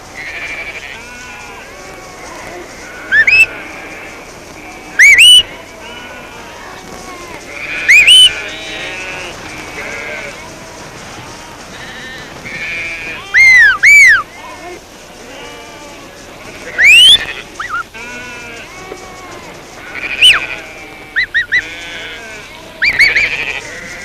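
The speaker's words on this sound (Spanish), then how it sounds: "Por medio de los silbidos de su amo, puede guiar el rebaño a donde el pastor quiera." A flock of sheep bleats repeatedly and loudly at close range while a shepherd's sharp whistles signal a herding dog, with several short calls and whistles scattered over a steady outdoor background.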